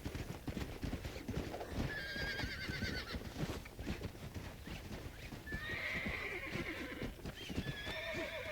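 A black horse in Red Dead Redemption, out in the game's wilds of West Elizabeth, whinnies shrilly twice over a steady, close clip-clop of hooves on hard ground, the neighs rising above the trotting rhythm.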